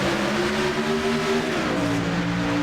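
Race cars roaring loud and steady at a green-flag start, engine tones holding then shifting lower as the field accelerates together, with no talk over it.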